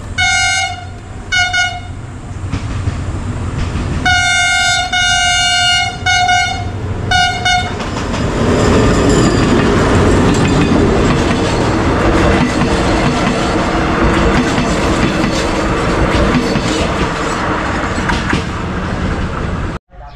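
A train sounds its horn in several separate loud blasts, then the train rumbles past nearby with steady clattering wheels and heavy roaring noise that continues to the end.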